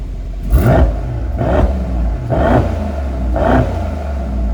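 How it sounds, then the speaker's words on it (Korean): A Mercedes-AMG E63 4Matic+ V8 revs hard four times in succession in Sport Plus exhaust mode, each burst of loud exhaust roar rising and falling over a steady idle rumble. "스포츠 플러스 배기음 한번 들려드리면"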